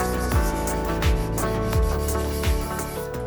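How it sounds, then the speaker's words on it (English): A 1972 Gibson SG Deluxe guitar finish, sprayed very thin, is lightly sanded with 1000-grit sandpaper, giving steady close rubbing strokes in an even back-and-forth rhythm with a few sharper pulses. "With 1000 grit here, sandpaper, and we're doing this very light because the guitar is sprayed very thin"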